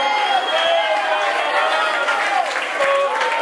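A church congregation raises a loud burst of praise, many voices shouting and calling out hallelujah together in a dense, continuous crowd roar with scattered claps.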